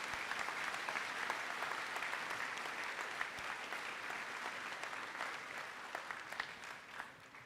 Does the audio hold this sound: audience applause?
yes